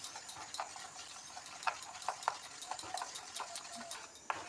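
Onion and garlic paste being mixed with mustard oil by hand, giving faint, irregular wet taps and clicks at an unsteady rhythm over quiet background noise.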